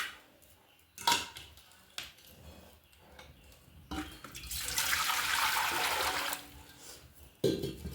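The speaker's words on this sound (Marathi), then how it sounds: "पाणी त्याच्यामध्ये ओतून घेते ना त्याचं." Hot water is poured into a pot beside a wood-fired chulha while chicken is being cooked, a rushing splash lasting a couple of seconds midway, set among a few sharp knocks and clatters in a quiet kitchen.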